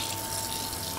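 Water runs steadily from a kitchen tap into a pot for pasta, a continuous close hiss and splash that swells slightly at the end, with no talking.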